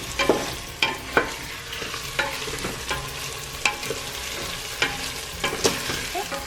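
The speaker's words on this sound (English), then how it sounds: "Now that the rice is nice and sauteed" Rice sautéing in a pan for chicken albondigas sizzles softly while a spoon scrapes and stirs it in sharp, irregular strokes roughly every half second, close and clear with no talking.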